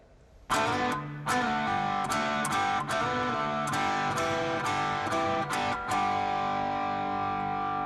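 A distorted electric guitar plays a short riff of sustained double-stop notes, each struck note ringing out loud and close with effects.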